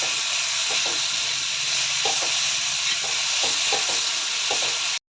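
Tomato thecha with fresh green coriander being stirred in a pan, a steady loud sizzle and steam hiss with soft scraping knocks of the spoon repeating about every half second, no voices.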